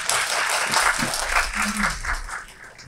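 A hall audience at a youth and regional community forum gives a loud, full round of clapping that swells and then gradually thins toward the end.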